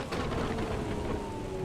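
Rain pattering on a car in Assetto Corsa Evo, a steady dense hiss of raindrops drumming on the body and windshield, close and constant, with a faint tonal hum underneath.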